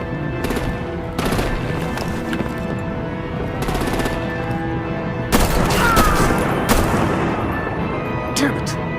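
Gunfire bursts in the Batman Telltale Series game, episode 2 The Pact: several loud broadband volleys crack out at intervals over a busy combat soundscape, with voices talking throughout.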